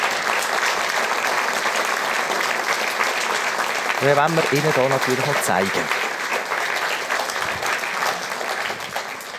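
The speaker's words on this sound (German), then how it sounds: "Herzlichen Applaus noch einmal." A studio audience at a celebrity cooking show claps in a steady, dense wave of applause, with a presenter talking over it.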